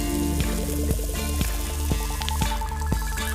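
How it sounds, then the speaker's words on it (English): Sweet corn and spring onions sear in a very hot pan with a loud, continuous close sizzle, marked by light regular taps as the vegetables are pressed and moved. "So once they're completely coated, straight onto that searing hot pan and give them a good press."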